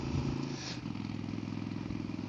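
A Harley-Davidson Forty-Eight or Indian Scout motorcycle engine runs steadily with a low, even throbbing rumble and faint mechanical clatter, with no talking.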